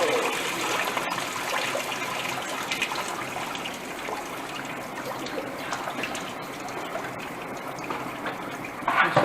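Fluid drains steadily from a Jeep 4.7L H.O. V8 engine during teardown into a catch pan underneath, a continuous close trickling and splashing that stays even throughout, with no talking over it.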